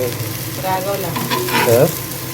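Bombil fish fries on a flat tawa with a steady crackling sizzle as it crisps, close and continuous, while a person talks over the cooking.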